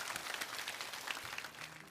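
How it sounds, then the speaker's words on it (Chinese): A studio audience at a televised lecture applauds in a dense, even patter of many hands clapping, faint and steady throughout with no voices over it. "所以也再一次把掌声送给您的团队的所有的"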